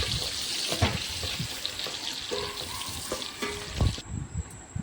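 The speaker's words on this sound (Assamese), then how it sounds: "এতিয়া মই ভালকৈ পেষ্টখিনি মই অলপমান ৰঙা হোৱা কৰি ভাজি ল'ম" Spice paste frying in ghee in a wok for yakhni pulao, a continuous broadband sizzle with stirring scrapes and clinks, close and steady, plus a faint running-water hiss toward the end.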